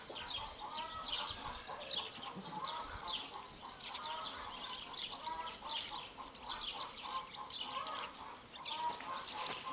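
Flock of chickens with a rooster, including a limping rooster, giving overlapping clucks and calls in a busy backyard run, continuous and moderately near with no talking.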